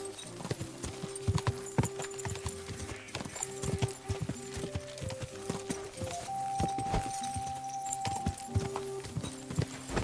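Steady clip-clop of horse hooves in Kingdom Come Deliverance 2, rhythmic and continuous with game music tones and ambience behind, with occasional faint speech.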